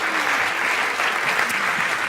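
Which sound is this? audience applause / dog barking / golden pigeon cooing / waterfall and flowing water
audience applause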